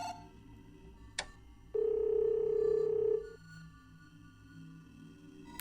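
A phone in a Chinese police horror video game gives a single steady electronic ring tone lasting over a second, preceded by a sharp click, then fades to quiet background hum.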